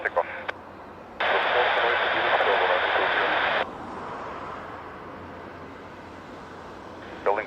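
Airliner taking off at Lisbon Airport: a loud, steady broadband engine roar swells for a few seconds, then eases into a lower sustained rumble, with radio squelch bursts at either end.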